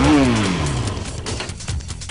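A 2012 Yamaha YFZ 450 ATV engine winds down from a loud high rev, its pitch sliding lower over about two seconds, then settles into a rough, uneven mid-range running sound.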